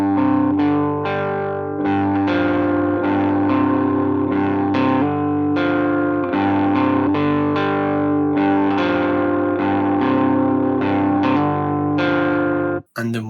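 Distorted electric guitar with effects plays a quick rock riff at slow tempo, steady repeated chord-position phrases ringing loud and continuous throughout before cutting off abruptly near the end.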